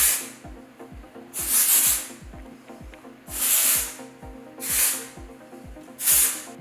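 A navy Pebble Beach texture spray hisses onto hair in four separate bursts, each a soft rising and fading whoosh, with quiet rustling and small clicks in between.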